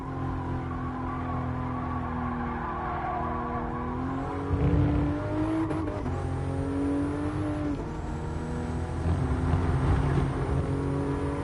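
A Toyota GR Supra race car in Gran Turismo Sport revs steadily against its limiter, engine drone holding and rising in pitch, with brief tire squeal and skid noise partway through, loud and continuous without voices.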